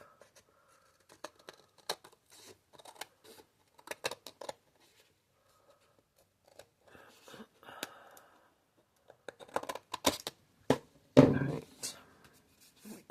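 Scissors snip a piece off a cardboard box during a repurposing craft project, with scattered close clicks and cuts, a few quick snips, and a louder crunching cut near the end.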